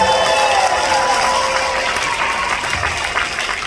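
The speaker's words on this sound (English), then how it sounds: "one more round of applause for Jamina Bluefield." A morning event audience claps steadily and densely throughout, a sustained wash of applause with faint cheering mixed in.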